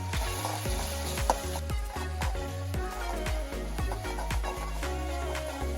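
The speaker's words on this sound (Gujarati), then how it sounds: "અહીંયા આપણું રાઈ જીરું તતડવા માંડ્યું છે. હવે આપણે એમાં નાખીશું લીમડી" Mustard seeds and cumin crackle and pop in hot oil with curry leaves, a dense close sizzle broken by rapid sharp spitting bursts throughout, loud and continuous with no voices.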